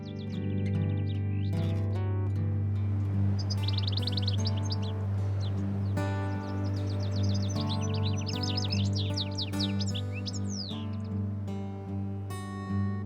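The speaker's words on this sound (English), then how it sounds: "the birds are singing" Birds chirp and trill in quick repeated phrases in Glenveagh National Park, Ireland, over a steady low hum of background music, bright and close throughout.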